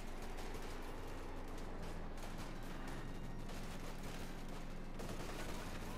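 Automatic weapon fire chatters through a Company of Heroes 2 battle between OKW and US forces, a sustained, rapid gunfire din with heavy combat noise underneath and some quiet talk.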